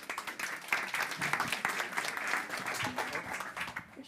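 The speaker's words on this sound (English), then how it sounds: "Please give him an applause." Applause from the audience at a hackathon kick-off event rises for a speaker from the Netherlands Red Cross coming on stage, a steady patter of many hands at moderate volume throughout, with a voice briefly audible underneath.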